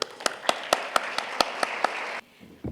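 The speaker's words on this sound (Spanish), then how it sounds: "otorguémosle un fuerte aplauso" A small audience at a conference on reparation and justice claps sparsely, with about eight distinct, separated hand claps in an uneven rhythm. They are moderately near and then cut off abruptly into near silence.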